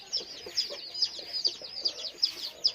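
Chickens in a low-cost poultry shed give short high calls in a quick regular rhythm. The calls are close and fairly quiet, with no talking.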